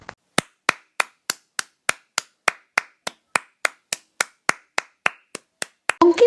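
A pair of hands claps alone in a steady, even rhythm, about twenty crisp, close single claps in a row with silence between them.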